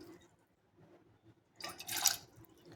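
Water poured from a small bowl into a pan of rock sugar while making wheat flour sheera, a brief splashing pour arriving near the end after quiet kitchen background.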